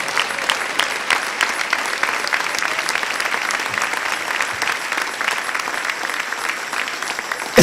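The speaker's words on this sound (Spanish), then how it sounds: "Denle un aplauso al Señor en esta hermosa mañana" A church congregation applauds on a morning service, steady dense clapping from many people sustained throughout, moderately loud and close.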